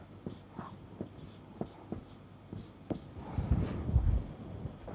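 Hand writing an equation, heard as a series of soft, close pen strokes and taps on paper in an irregular rhythm, with a brief rustle near the end.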